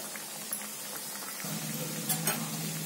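Sweet made from wheat flour frying in a pan of oil, giving a steady soft sizzle with faint crackles and pops close by, with no talk.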